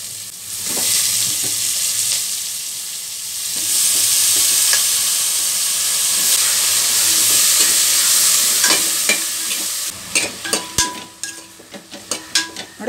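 Mushrooms and thick-cut onions fry in butter for butter mushroom masala, a steady close sizzle with spoon stirring, then sharper clinks and scrapes of the utensil against the pan near the end.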